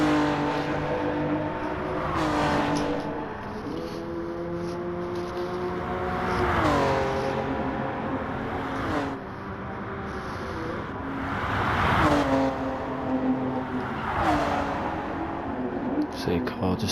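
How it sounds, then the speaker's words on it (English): A mid-engine 1990s car in a racing video game accelerates away, its engine note climbing through repeated gear changes over about seventeen seconds, close and steady, with a commentator talking throughout. "See a car just taking off there"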